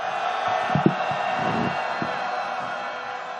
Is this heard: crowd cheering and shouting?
yes